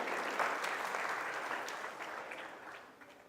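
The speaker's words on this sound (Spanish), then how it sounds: "Les damos un fuerte aplauso." A crowd gives strong applause at a church-style ceremony right after a closing prayer, the clapping dense and sustained, slowly fading toward the end.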